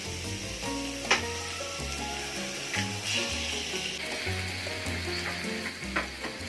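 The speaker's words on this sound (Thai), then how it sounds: "เจียวกระเทียมกับหมูนะคะ" Garlic and pork fry in a pan with a steady sizzling hiss, under louder background music with a clear tune.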